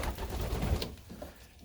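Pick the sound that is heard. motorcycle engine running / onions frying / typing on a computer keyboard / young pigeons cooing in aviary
young pigeons cooing in aviary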